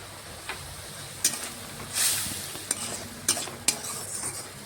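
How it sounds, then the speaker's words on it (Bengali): Spice paste being stirred and fried in a pan over low gas heat, with a soft steady sizzle and several sharp spoon scrapes and clinks at irregular intervals, close up and without speech. "এখন নাড়াচাড়া করে মশলাটা একটু ভেজে নেব।"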